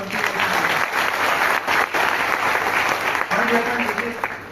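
Hearty audience applause at a Vestige marketing plan seminar in Delhi's ITO area, a steady dense roar of clapping that holds loud throughout, with a presenter's voice cutting in briefly near the start and again later.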